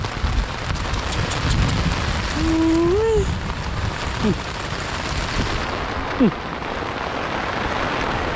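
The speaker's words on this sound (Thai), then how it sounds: "ฝนแรงมาก" Heavy rain pours down hard and steadily outdoors during a hunt for giant Mekong catfish, a dense continuous hiss with a few brief vocal sounds and a short sharp knock near the end.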